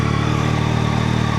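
A Yamaha R9 motorcycle engine warms up at idle, giving a loud, steady, close mechanical hum with a light even clatter and no speech over it.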